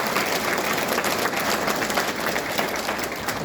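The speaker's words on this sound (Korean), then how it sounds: "동의하시면 박수 한번" An audience at a lecture in Goheung claps together in dense, loud, sustained applause, steady throughout with no pauses.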